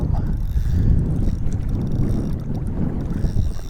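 A chilly wind gusts across the mic outdoors by the water at an early-morning carp fishing spot, a loud, steady low rumble and buffet with no talking.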